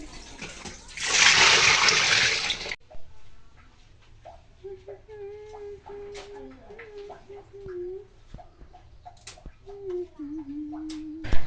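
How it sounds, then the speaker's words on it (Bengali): Beef feet are washed under running water, giving a loud, close splashing rush for a couple of seconds. The water stops abruptly, and voices then talk over a quiet room. "এই যে ধুয়ে সবকিছু পরিষ্কার করে নিচ্ছে"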